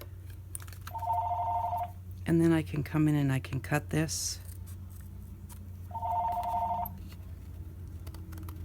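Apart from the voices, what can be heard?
phone ringing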